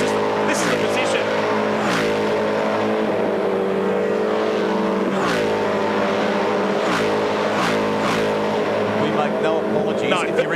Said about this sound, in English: So many people commented yesterday saying we love the noise of these S5000 cars